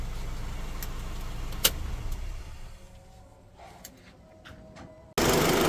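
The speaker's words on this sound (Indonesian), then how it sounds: "Ini yang kencang adalah suara injektornya, suara mesinnya hampir tidak terdengar." Honda Freed engine idling at about 500–600 rpm with no AC, its fuel injectors ticking loudly over a very quiet motor; steady mechanical clicking under a broadband hum that drops away before a louder burst at the end.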